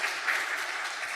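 Applause from a church congregation welcoming visiting guests during a Korean Presbyterian service, a steady, dense clapping that fills the short moment without voices.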